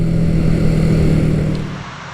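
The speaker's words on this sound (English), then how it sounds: "What a nice little bike." A vintage Honda CB125 motorcycle being ridden, with a loud steady engine drone and rushing wind that fade slightly toward the end.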